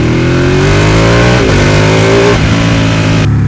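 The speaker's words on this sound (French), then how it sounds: "c'est bel et bien un bicylindre et je pense que ça s'entend dans la vidéo." A 2012 Ducati twin-cylinder motorcycle engine revs loudly up close, its throaty pitch climbing steadily, dropping briefly, then rising again before cutting off near the end.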